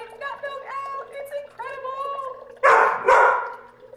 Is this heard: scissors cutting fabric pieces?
no